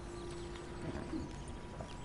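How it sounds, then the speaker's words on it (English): Arabian horse hooves from the video game Red Dead Online clip-clop steadily at a moderate pace beneath a constant game background hum, fairly soft throughout. "I got a new horse cause I accidentally disabled my old one, so I got the Arabian horse."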